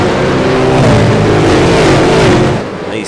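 V8 Supercars race cars roar at Okayama in a racing video game, a loud, close engine wail that rises and shifts through gears for about three seconds before easing off.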